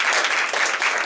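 Sustained applause fills a school board meeting room, a dense steady wash of many hands clapping at close range with no talking over it.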